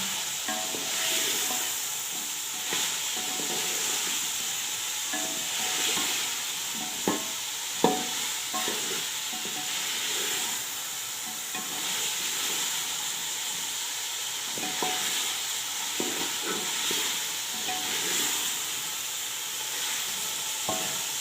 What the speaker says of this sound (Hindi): हमारी गोभी को 4-5 मिनट हो गए हैं भूनते ही